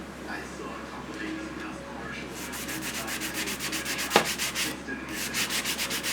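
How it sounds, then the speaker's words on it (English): Sandpaper rubs over cured epoxy on an alcohol ink tumbler in quick, rhythmic back-and-forth strokes that grow steadier and louder partway through, close and dry. "So if it sticks up, you want to sand it down."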